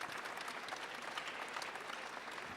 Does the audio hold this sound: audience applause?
yes